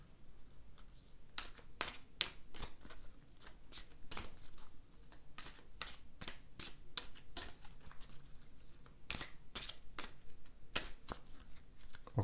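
Tarot angel cards being shuffled by hand, a run of sharp papery riffles and snaps repeating in irregular bursts, close and fairly quiet, with no talk.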